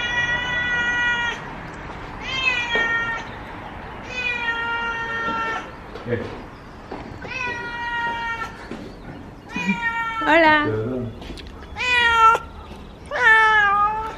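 A cat meows again and again in long, rising and falling calls, loud and close, while people talk in Spanish between and over the cries.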